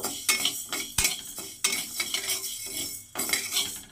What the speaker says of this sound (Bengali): প্রথমেই আমি ডালগুলোকে একটু শুকনো খোলায় ভেজে নেব